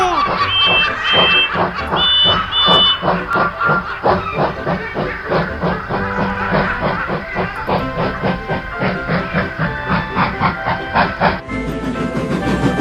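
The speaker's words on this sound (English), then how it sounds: "Edward arrived at the scrapyards to take away the empty trucks that Chocolate had brought earlier" Toy train engine pulling into a scrapyard to collect empty trucks, a loud rhythmic chuffing and clacking run with sustained whistle-like tones, ending in a bright hissing swell.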